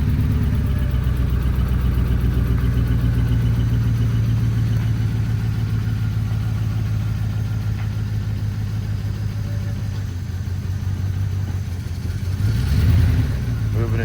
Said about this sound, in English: this is going to be a 2007 Ford F-150. Started right up with a jump.